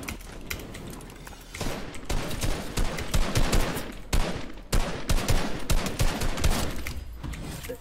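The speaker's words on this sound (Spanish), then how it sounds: "Ah, te está disparando encima." Rapid rifle fire crackles in Fortnite, dense bursts of gunshots rattling on and off at close range, loud and nearly continuous with brief pauses between volleys.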